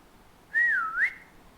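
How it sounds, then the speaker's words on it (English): A single short whistle, near and clear, gliding down and then sweeping back up in pitch over about half a second, with no talk around it. "there is the whistling."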